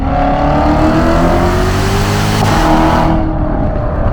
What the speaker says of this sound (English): that right there was the traction control actually cutting power